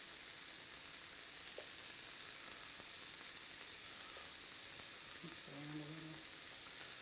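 Meat and onions fry in a pan on a preheated cooker, giving a steady, broad sizzle throughout with a few faint scrapes and brief tonal kitchen noises toward the end.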